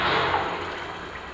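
Water poured from a vessel into a pot of rice in a home kitchen, a steady close splashing rush that tapers off over a second or so, with no talk.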